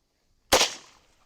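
A single close, sharp gunshot from a lever-action rifle fired through a chronograph outdoors, with an abrupt crack followed by a short decaying echo and silence on both sides.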